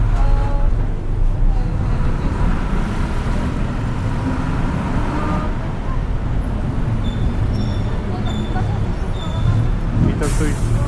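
Bus in busy Bangkok Chinatown street traffic, a dense continuous engine rumble and roadway noise with a hiss of air brakes near the end, people talking over it.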